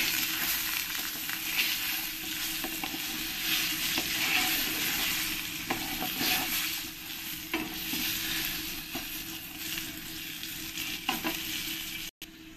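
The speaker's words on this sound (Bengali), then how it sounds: "আমি আলুর মধ্যে একটু সামান্য লবণ আর একটু হলুদ দিয়ে দেব, দিয়ে ভালো করে আমি লাল লাল করে ভেজে নেব" Potato pieces with salt and turmeric fry in a pan for a Bengali country-style chicken curry, giving a steady loud sizzle broken by stirring scrapes and clinks, with no talking.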